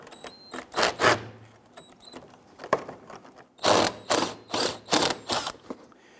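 A hand ratchet clicks in quick bursts while loosening a 10mm bolt on the lower front fender well liner of a Jeep Grand Cherokee, with short runs of dense pawl ticks separated by pauses.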